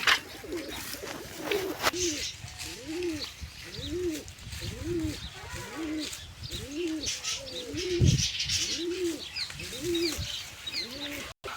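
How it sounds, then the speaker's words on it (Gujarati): White pigeons coo in a steady, repeating rhythm close by, soft rolling calls one after another with faint chirps and a quiet voice in the background. "બધા કબૂતર આપણે અહીં બેઠા છે"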